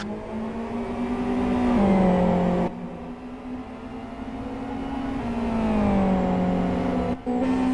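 A GT race car pulls away from the pit lane, its engine holding a steady pit-limiter drone before climbing through loud, rising revs. The car stays near and continuous, with the revs easing and surging again. There is no talk.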